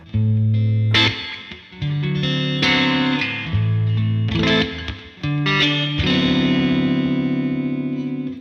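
Electric guitar, a Greco with the front slug-coil pickup selected, playing sustained chords and single notes through a warm, slightly distorted tone with light effects, notes ringing out in short phrases.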